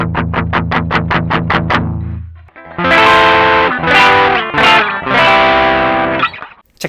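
An electric guitar through an Ibanez TS9 Tube Screamer overdrive pedal with the tone knob turned up, bright and cutting, plays a run of quick repeated chugs, then sustained distorted chords ring out.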